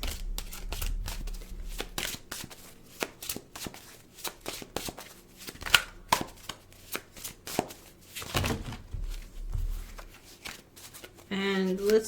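Tarot cards being shuffled by hand in repeated quick riffling bursts, close and crisp, with brief pauses between them.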